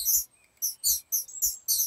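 Short, bright bird chirps sound in rapid repeated bursts in the Escape from Castle Claymount game, about six sharp tweets in under two seconds, with soft thumps beneath. Nobody talks.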